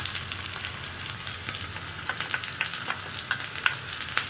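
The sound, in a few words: sliced onion frying in oil with mustard seeds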